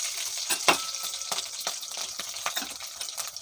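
Green chillies and curry leaves sizzle in a few spoons of hot oil with tempering seeds, a close, bright crackling spatter with sharp pops scattered throughout and no talk.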